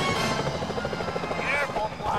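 A security helicopter in the video game Sly Cooper: Thieves in Time hovers with a loud, steady rotor chop that pulses rapidly throughout, mixed with game effects and brief voices.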